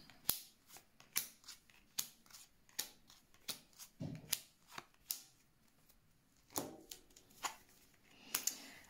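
Tarot cards shuffled and drawn up close in a quiet room, a series of sharp, crisp snaps and flicks at an irregular rhythm, faint overall and with no talking.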